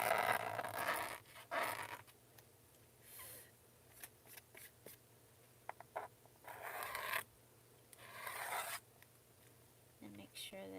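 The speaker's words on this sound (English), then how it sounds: "it won't cut. There's too much stuff in the gutter. So I use my pokey awl tool." A pointed awl pokes and scrapes built-up debris out of the gutter of a junk journal during crafting, heard as scattered short scratchy bursts close by with quiet gaps between.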